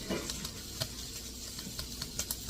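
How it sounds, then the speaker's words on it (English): Butter melts in a hot pan with a quiet, steady sizzle and scattered soft pops and crackles, close and faint, with no talking. "So we're gonna let this melt a little bit"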